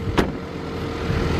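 The inline engine of a 2019 Ford Ranger XLT runs at a steady idle, an even mid-pitched hum heard close, with one brief click near the start and no clear ticking beyond that.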